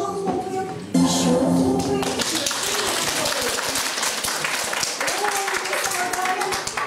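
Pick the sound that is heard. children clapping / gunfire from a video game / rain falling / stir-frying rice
children clapping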